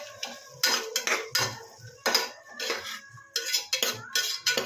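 A metal spatula clinks and scrapes repeatedly against a pan as spices and turmeric are fried at home. The irregular bursts of clatter come close up, with brief pauses between strokes.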